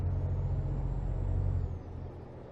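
A heavy truck hauling a wide load in Euro Truck Simulator 2 rumbles with a deep, steady engine drone that drops off sharply near the end, leaving a quieter hum.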